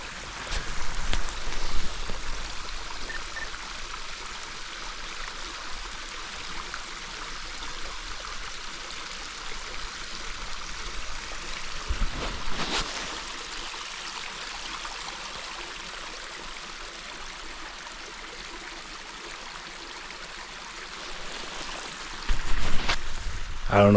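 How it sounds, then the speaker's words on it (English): A creek running near an off-grid cabin in snowy Vermont in March: a steady, broad rushing of water that continues throughout at an even level, louder at moments. "I don't know if you can hear the creek running"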